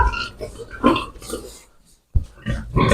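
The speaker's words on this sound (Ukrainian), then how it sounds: "Погодувала свиноматка тільки що, напевно, і тепер вони все валяються." Piglets and a sow in a barn give short grunts and snuffling oinks, close and fairly loud, in several bursts separated by a brief pause.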